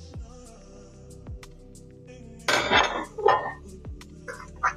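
A utensil clinks and scrapes against a pan while spices are stirred into a Thai coconut curry with shrimp, with a few metallic knocks and a rougher stirring scrape in the middle.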